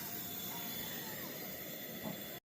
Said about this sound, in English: we just fired up some boiled peanuts here on the white gas stove